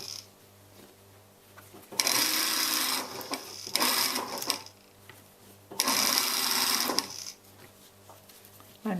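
A sewing machine stitching fabric for a neck support pillow runs in three quick, loud whirring bursts separated by short pauses, close by with a faint background hum.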